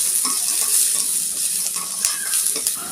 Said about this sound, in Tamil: எல்லாத்தையும் நல்லா ஒரு முறை கலந்து கொடுக்கலாம்